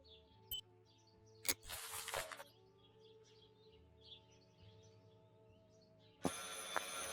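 A telephone rings in Martha is Dead, its bright bursts sounding alone in a quiet scene with a low hum and faint birdsong. A long ring sits near the start and another begins near the end.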